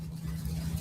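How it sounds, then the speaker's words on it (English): Car engine idling, a low, steady hum heard briefly at a fair distance, faint and unbroken. "Oh, that's noise from his car."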